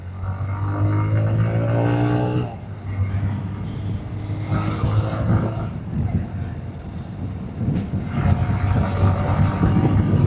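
A 2026 TVS Raider motorcycle with ABS ridden in eco mode, its engine drone steady then shifting as it rolls on, mixed with strong wind rush throughout.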